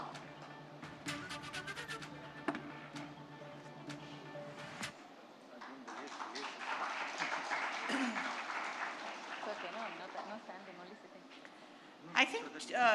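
A conference audience in Chennai applauds Gopal Krishna Gandhi. The clapping is moderate and mixed with a voice and some background sound, and it swells in the middle before fading.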